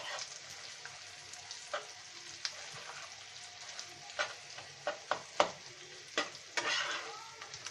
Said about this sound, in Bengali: আমরা নেড়ে নিচ্ছি এটা কিন্তু আমরা যে মুরগি ডিমটা যেরকম রান্না করি ওরকম কিন্তু হয়ে যাচ্ছে